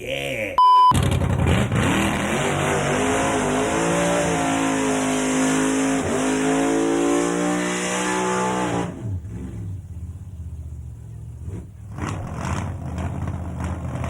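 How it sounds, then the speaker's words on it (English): A car doing a burnout at Summernats revs hard and loud for several seconds, rising and falling in pitch, then cuts off, leaving quiet background before faint noise returns. "We just roasted some exhaust pipes right off the car."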